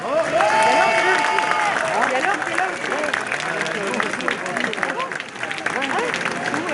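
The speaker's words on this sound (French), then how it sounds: "Vous pouvez vous applaudir, franchement c'est énorme." A crowd at an outdoor rally against a security law claps and cheers, dense applause mixed with voices and whistles, loud and close.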